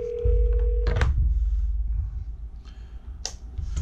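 A Polycom desk phone dialing a call: a steady electronic tone that cuts off, followed by a few short beeps and clicks over a low background hum.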